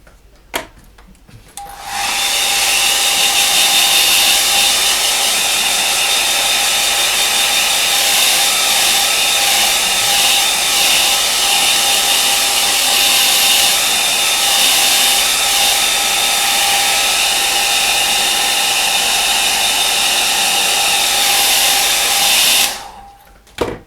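A hair dryer blows steadily on a watercolour painting of a lake scene, a loud continuous whir with a fixed whine that starts abruptly, holds unbroken for about twenty seconds, then cuts off, with no talking.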